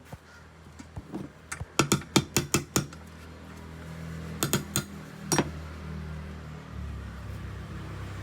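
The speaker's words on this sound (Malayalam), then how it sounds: "എന്നിട്ട് 12 റിങ്സോ ഏതെങ്കിലും സ്പാനറോ വെച്ച് ഫുൾ ടൈറ്റ് ചെയ്യും." Metallic clicks and ratcheting taps come from a 12 mm ring spanner tightening a bolt on a Suzuki Access 125 BS4 scooter kick-starter, first in a quick rhythmic run and then in a few scattered clinks, close and moderately quiet.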